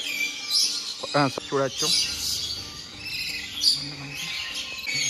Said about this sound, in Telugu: different types of parrot